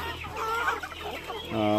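Rhode Island Red chickens cluck and call close by in a farmyard, with a louder, sustained call rising at the end.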